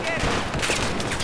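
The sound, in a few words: gunfire in the video game Battlefield 4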